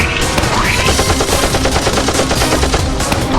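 Rapid machine-gun bursts from the Roblox game Barry's Prison, loud and continuous with dense overlapping shots and no talk.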